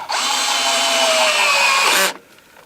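A cordless battery drill whirs steadily at close range while tightening a security nut onto a coupler on a barge, running for about two seconds before stopping abruptly.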